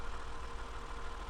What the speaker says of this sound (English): Look at that tractor go.